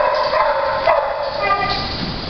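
A five-year-old, 48-pound dog barks and yips in a short, excited greeting, close and fairly loud, with voices mixed in underneath.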